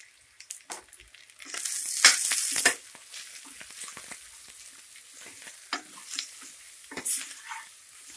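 Brinjal pieces fry in hot oil over a medium flame for a vangibath sambar, with steady sizzling, a louder hissing burst partway through and occasional stirring scrapes, close and with no talk.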